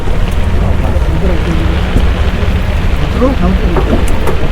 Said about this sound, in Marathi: पाऊस मुसळधार आहे पाऊस आहे पाऊस